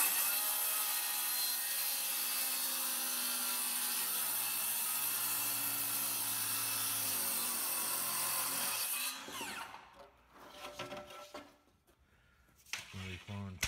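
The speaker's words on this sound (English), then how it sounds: "He's not giving that saw any mercy neither. He's flat hammering down on it." A power saw screams steadily through mobile home trim while being pushed hard, loud and continuous for about nine seconds, then cuts off into clattering handling noises and brief talk.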